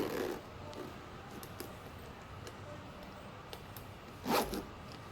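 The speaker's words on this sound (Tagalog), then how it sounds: "let's try na i-zipper" A Louis Vuitton handbag zipper is pulled in two short, close bursts, one at the start and one near the end, with quiet handling ticks in between.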